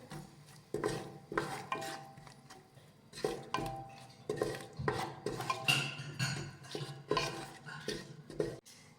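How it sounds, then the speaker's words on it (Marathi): Spice powders being stirred into a pan of spicy potato rice with a metal spoon, giving repeated scraping clinks and rhythmic knocks against the pan, close and fairly quiet, with no talk. "त्यानंतर एक चमचा गोडा मसाला घालूयात आणि एक चमचा बॅडगी मिरची पावडर हे मसाले मिक्स करून घेऊयात"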